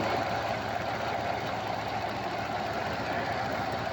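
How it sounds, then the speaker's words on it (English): An old car of about ten years, revived by a jump start after its battery went completely flat, idles with a steady, close rumble and a faint knocking texture, with no voices. "Engine sound good."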